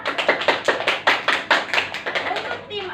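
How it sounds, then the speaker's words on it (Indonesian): A class of fifth-grade students claps for the winning team in a school classroom. The rhythmic hand claps run for about three seconds, close and moderately loud, with voices mixed in among them. "Tepuk tangan untuk kita semua."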